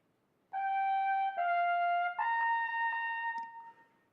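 A solo trumpet plays a few sustained notes stepping between pitches, clear and close in a quiet room, with a soft ending on a fading tone and no talk.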